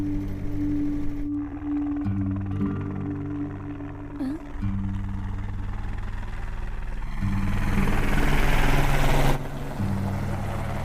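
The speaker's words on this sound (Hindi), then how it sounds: "भैया वो देखो हेलीकॉप्टर" A helicopter flying overhead, heard as a steady low droning rotor hum with tonal engine whine that swells louder toward the end, with no talk over it.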